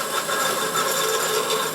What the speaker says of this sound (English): That noise is my thread spinning around.